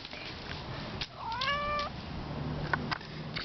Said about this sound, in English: This is Skittles, the cat.